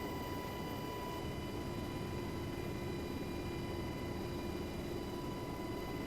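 A steady, droning UH-60L Black Hawk helicopter engine whine while taxiing in a flight simulator game, with constant turbine hum and broadband noise, unchanging throughout.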